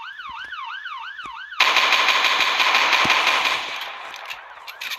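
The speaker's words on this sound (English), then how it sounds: "Warning shots." Loud burst of rapid gunfire bursts in over a warbling electronic siren, the shots rattling on densely for about two seconds before fading, with a few scattered sharp pops after, no talk.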